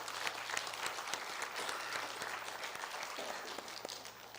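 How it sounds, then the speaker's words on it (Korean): A large church congregation claps steadily during an evening service, a dense wash of applause that fills the whole stretch without a break, heard from somewhat afar. "박수 한번 칩시다 우리"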